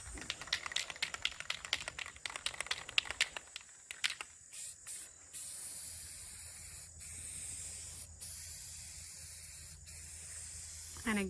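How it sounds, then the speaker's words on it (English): Rust-Oleum spray paint hissing onto an old wood sign board in bursts, first a run of short rapid sprays, then several longer steady hisses with brief breaks, close and fairly quiet. "we're using the Rust-Oleum paint products"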